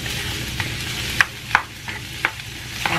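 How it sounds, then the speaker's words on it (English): Chicken pieces fry gently in a pan with a low, continuous sizzle, broken by a few brief clinks and scrapes from a utensil stirring the meat. "I'm going to let it fry up a little bit"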